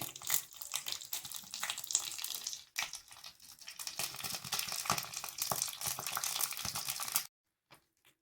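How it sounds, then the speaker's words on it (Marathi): Cumin, mustard seeds, curry leaves and red chilli crackle and sizzle in a spoonful of hot oil for a chutney tempering, a steady close hiss with popping that cuts off abruptly near the end. "एका चमचा तेल घेतलेलं आहे. जिरं, मोहरी, कढीपत्ता, लाल मिरची टाकलेली आहे तडका देण्यासाठी."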